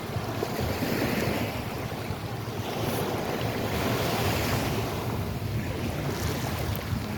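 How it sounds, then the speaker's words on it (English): Ocean waves washing steadily onto Fort Myers Beach, Florida, a loud, continuous surf roar with gusty wind buffeting the microphone throughout and no voices. "Listening through the waves right now."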